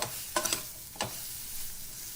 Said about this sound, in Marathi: आता तळलेली वांगी घालूया मिक्स करून परतून घेऊया